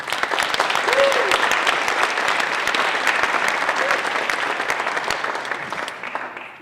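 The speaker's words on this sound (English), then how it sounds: "if the parents can they give a hand of applause just for our graduate" Parents and guests applaud a graduate at a Gateway to College spring graduation ceremony, a broad sustained wash of clapping from a large crowd, a brief cheer rising early, fading slightly at the end.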